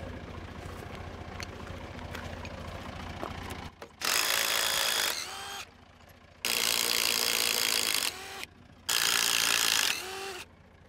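A ratchet wrench working a bolt loose on a junk tow truck, with three loud bursts of rapid clicking separated by pauses, after a stretch of low background rumble.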